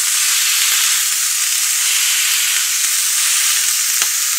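Onions pressed into beef patties sizzle loudly in a cast iron skillet for Oklahoma fried onion burgers, a constant close, dense frying hiss with a few faint utensil taps and no speech.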